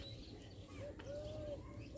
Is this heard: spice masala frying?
no